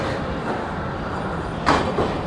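An orange eight-coach Vande Bharat Express, the Jodhpur–Delhi Cantonment service run by North Western Railway, arrives at a platform with a steady low rumble and a couple of louder clunks near the end.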